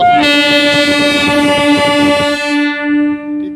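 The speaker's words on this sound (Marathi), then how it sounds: "ही गाडी निघती नगरच्या दिशेने आष्टीवरून" A close, loud train horn blares steadily over the clatter and rumble of a train pulling away from Ashti railway station.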